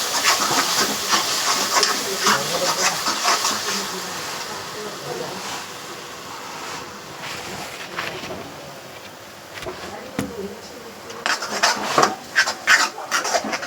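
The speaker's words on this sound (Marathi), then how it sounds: "काकडची पेस्ट टाकलेली आहे ती परतून घेऊया" Kakad paste sizzling and hissing as it is sautéed in a pan with seaweed greens, a steady broadband frying hiss with scattered scraping and clicks that grow sharper toward the end.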